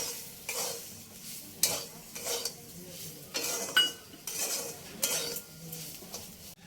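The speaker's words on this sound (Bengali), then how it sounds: "ভেজে রাখা সুজিটা দিয়ে দেবো, দিয়ে ভালো করে মিশিয়ে নেব" Fried semolina stirred into a pan over a low flame for spicy suji, with a spoon scraping and clinking against the pan in regular strokes over a faint sizzle, close up with no talking.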